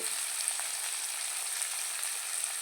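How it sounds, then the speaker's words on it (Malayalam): Small shallots, crushed ginger, garlic and dried red chilies frying in a pan for Malappuram-style chicken, a steady, even sizzle with light crackles, close and unbroken, with no voices. "ആവശ്യത്തിനുള്ള മുളകും ഒന്നിച്ചിട്ടിട്ട് അത് മുപ്പിച്ചെടുക്കാം"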